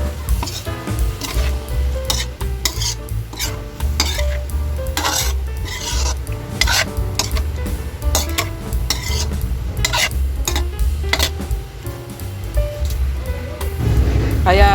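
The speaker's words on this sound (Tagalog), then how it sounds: "Halo-halo ulit." Chicken liver menudo being stirred in a pan, with quick repeated scraping and clinking of a utensil against metal over a low simmering sizzle, busy and close throughout.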